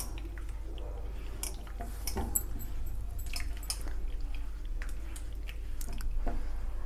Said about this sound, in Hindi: इसमें हम पानी डाल देंगे और इसको अच्छे से मिक्स कर लेंगे, दही और बेसन को।